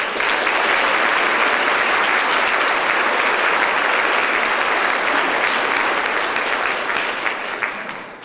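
Graduation ceremony audience clapping in a sustained, loud round of applause, dense and even, heard alone and tapering off at the end.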